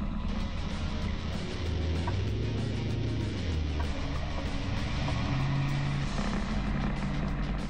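A 1969 race car engine roars at the start of a race, a dense, steady mechanical rumble whose pitch climbs and shifts as it accelerates, loud and unbroken throughout.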